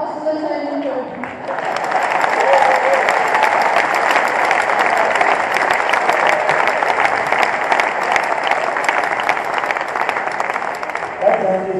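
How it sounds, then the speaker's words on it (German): Audience applause at the German final awards of the World Robot Olympiad in Ludwigshafen, a long steady burst of clapping that starts after brief talk and fills the hall throughout. "Dann noch einen riesen Applaus für meinen Klassenlehrer"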